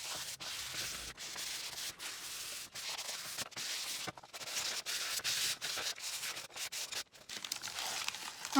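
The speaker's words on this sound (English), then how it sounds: "So I'm gonna go ahead and lightly sand and speed up this part of the sanding process." Wood pieces of a farmhouse kit being lightly sanded by hand, with quick repeated rubbing strokes and brief pauses between them, close and fairly quiet, no talking.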